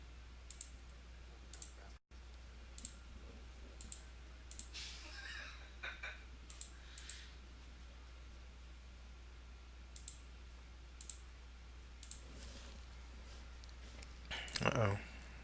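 Computer keyboard typing picked up by a desk microphone during a 3D modeling session: sparse, faint, irregular clicks scattered over quiet hum, with a brief burst of voice near the end.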